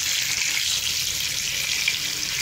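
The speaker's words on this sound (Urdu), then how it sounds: "میں پیسز کی سائڈ چینج کر دوں گی تاکہ یہ دوسری سائڈ سے بھی فرائی ہو جائیں" Fish pieces fry in hot oil over a low flame, producing a steady, dense hissing sizzle close by, with only faint pops.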